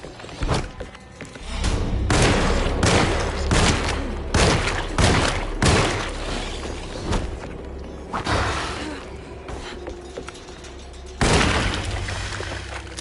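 Gunfire in the survival horror game Alone in the Dark, a string of loud, irregular shots and thuds over a low droning background, with a final heavier shot near the end.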